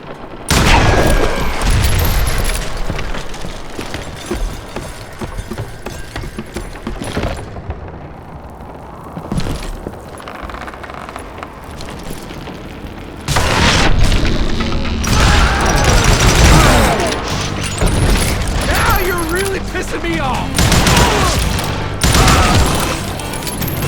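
In the Western shooter Call of Juarez: Gunslinger, gunshots crack and dynamite detonates: loud, dense booms and crashing blasts with rolling debris, continuous and heavy with a brief lull in the middle.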